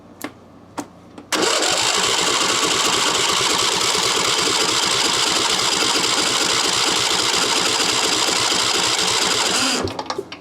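A Briggs & Stratton V-twin engine that won't start cranks continuously on its starter for about eight seconds, a loud steady rapid chugging whir that never catches, after a few faint knocks.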